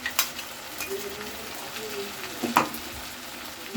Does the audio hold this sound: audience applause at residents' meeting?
no